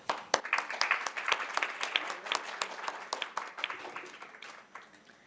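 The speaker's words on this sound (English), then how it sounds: "I feel that we should applaud for that." Audience applause at a book launch event, a moderate crowd clapping in uneven, scattered bursts that taper off over several seconds.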